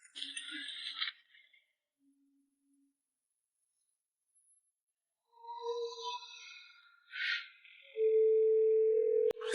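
A telephone call goes unanswered: sparse electronic tones and chirps sound alone in near silence, ending with a long, steady tone.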